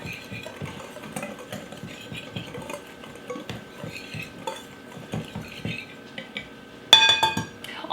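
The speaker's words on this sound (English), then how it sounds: "I'm just gonna mix up the dry ingredients right here" Dry cornbread ingredients being mixed in a bowl: soft scraping and stirring with scattered clinks of utensil against the dish, growing louder and busier with sharper clatter near the end.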